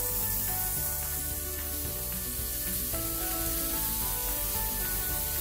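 Burger patties fry on a warm pan, a steady dense sizzle that stays loud and even throughout with no talking.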